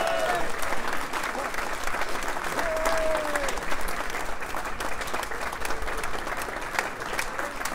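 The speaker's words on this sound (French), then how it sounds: "Et applaudissements pour elle aussi, qui vous remet ce Golden Globe." A crowd applauds steadily at a Golden Globe prize giving, thick continuous clapping with a brief voice heard faintly beneath.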